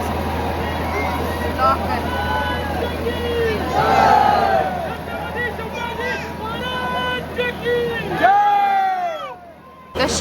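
A dense, noisy crowd packs the Chinchpokli Chintamani Ganesh idol arrival procession in 2025, with continuous loud hubbub, shouts and cheers all around, close and unbroken until a brief drop near the end; people talk nearby throughout.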